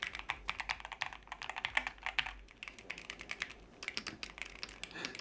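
Steady typing on a Keychron Q6 Max mechanical keyboard with Banana switches: rapid, fairly loud clacky keystrokes in uneven bursts, close up and without talk.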